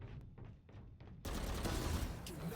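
Gunfire in the video game Valorant: a few quick sharp shots, then a sudden loud sustained burst of rapid fire, close and dense, with no talking over it.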